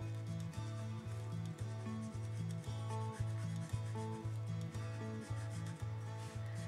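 Copic alcohol markers in a lighter shade rubbed back and forth over paper to blend into a darker colour, giving steady close scratchy strokes in a repeated rhythm, with no talking.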